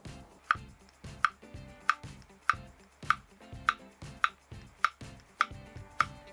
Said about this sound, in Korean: 애호박 두께는 7, 8mm 정도 썰어주면 됩니다